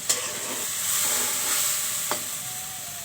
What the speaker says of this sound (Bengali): শুটকিগুলো ভালো করে একটু কষিয়ে নেব।